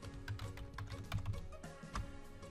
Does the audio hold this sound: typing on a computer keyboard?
yes